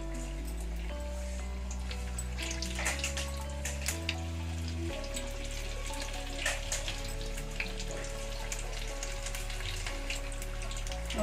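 Raw banana bajji fritters deep-frying in oil over a medium flame, a steady bubbling sizzle with occasional pops and light clinks, continuous and fairly close.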